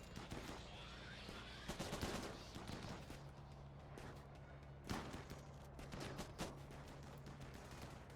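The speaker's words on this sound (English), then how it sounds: "Never mind, they're shooting at us." Gunfire in the video game Rimworld during a raid, with repeated sharp shots and bursts scattered across the stretch, some louder than others, over a steady low game background.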